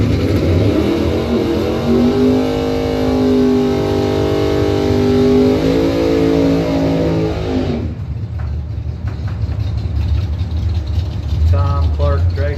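Drag racing cars at a Mopars Against the World event, one of them a Mustang, roar with a loud sustained engine note that rises through the gears, then cuts away to quieter crowd and track ambience.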